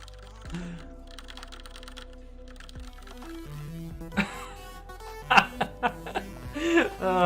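Typing on quiet computer keyboard keys, a series of soft, close clicks and clacks that grow busier toward the end, with background music and a brief chuckle underneath.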